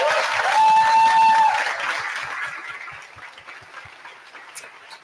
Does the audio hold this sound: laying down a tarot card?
no